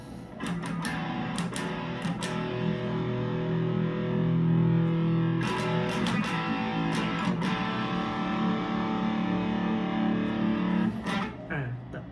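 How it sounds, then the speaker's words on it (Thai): Heavily distorted electric guitar chords through a humbucker bridge pickup on an Overspeed Super Stratocaster SSH ring out loud and sustained, with a few sharp strums and short pauses between them. "่อมานะจะเป็นเสียงแตกนะครับ ก็จะลองที่ตัวหลังก่อนนะครับ"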